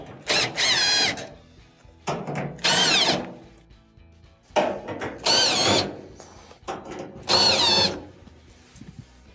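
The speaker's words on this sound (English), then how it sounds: "there are a couple of Phillips screws that have to be taken out" A power drill backs Phillips screws out of the bulkhead of an LG dryer under repair: four loud, close bursts of rising motor whine, each preceded by short ratcheting clicks, separated by quiet gaps with no speech.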